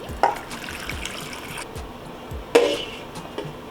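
Water pours from a tap into a large saucepan of potatoes, a steady splashing fill with a couple of sharp clanks of the pan.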